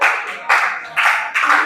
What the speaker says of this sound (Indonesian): Udah kita tepuk tangan buat kelompok 1.